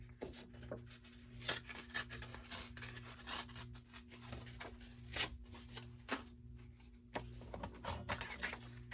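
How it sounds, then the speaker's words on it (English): Scissors snip through brown paper while a ship shape is cut out for a schooner easel card, giving soft repeated crunching cuts and rustling close by at a quiet level. "I'm going to cut this out of brown anyway, just to get the ship out of here"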